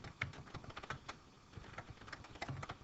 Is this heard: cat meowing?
no